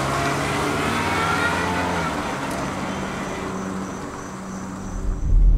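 A car with brake fluid added to its gas tank driving on the road, a steady loud engine and road roar throughout, swelling near the end as it speeds up.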